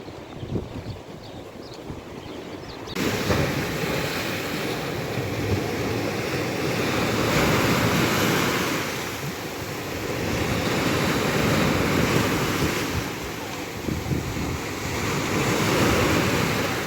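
Black Sea surf rolling onto a beach in Odesa, a steady loud wash of breaking waves in broad swells with wind buffeting the microphone, quieter for the first few seconds before the surge builds.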